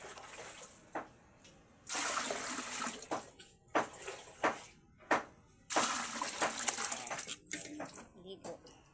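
Bursts of splashing and pouring water while a baby is bathed, coming in irregular surges with pauses between, close and fairly loud, with a voice talking in between.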